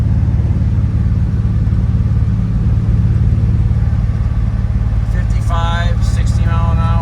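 A 1961 Chevrolet Biscayne resto mod with an LS1 engine drives along, its steady low rumble loud and continuous, with a voice talking over the engine near the end.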